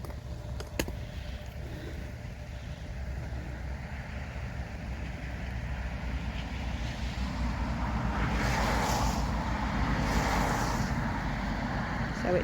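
Cars pass on a fast road on a rainy day, rising out of a steady wind-like rumble as broad whooshing swells that build and fade, loudest over the second half.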